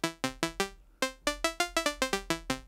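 Quiet, bright synthesizer notes plucked in a quick melodic run, each with a sharp attack and short decay, thin on low end, with an EQ boosting highs and cutting below about 200 Hz.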